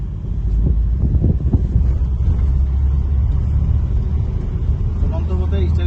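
A car rolls along during a driving lesson, its engine rumbling under heavy wind buffeting, with a few low thumps early on and a faint gear change; voices talk over it near the end.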